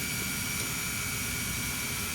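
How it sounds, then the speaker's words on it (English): Aircraft engine noise during a takeoff in the Prepar3D flight simulator game, a steady broadband roar with a constant high whine, continuous and fairly loud, with no talk. "Runway 14 clear for takeoff."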